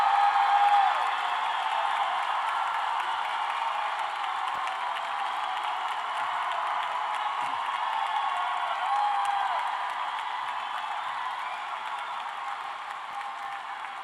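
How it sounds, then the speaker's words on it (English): A large convocation crowd applauds steadily for about fourteen seconds, with graduates clapping toward family and friends in the stands, dense and continuous with a few scattered whoops. "I'd like to ask all of our graduates to stand and turn to the folks in the stands and applaud your family and friends"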